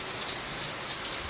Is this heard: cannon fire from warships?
no